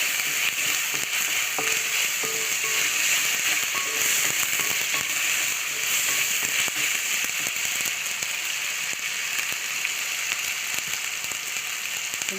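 Ginger paste frying in a pan for a green chicken curry: a continuous dense sizzle with light crackling and a few soft stirring clicks, steady and close throughout.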